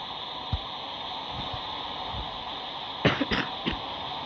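A person with a sore throat coughs and clears their throat in a few short, close bursts near the end, over a steady background hiss and a faint earlier throat sound.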